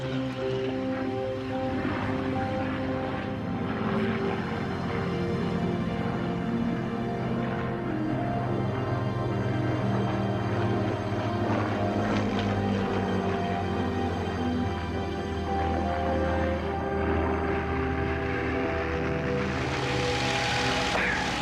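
A Spitfire fighter's piston engine drones loudly and steadily throughout, its deep continuous roar swelling slightly as the plane passes overhead.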